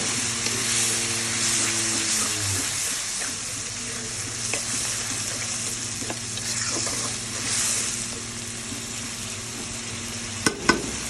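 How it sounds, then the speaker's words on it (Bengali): Spice masala with grated tomato sizzles and fries in a pan, stirred continuously in a steady close crackle, with a couple of sharp utensil knocks near the end and no talking. "মশলাটা ভাজা ভাজা হয়েছে,"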